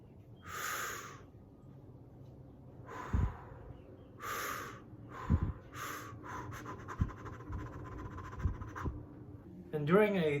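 Breathing is demonstrated in a harmonica lesson: slow, audible inhales and exhales repeat in loose cycles, close and breathy, with soft rustling between them.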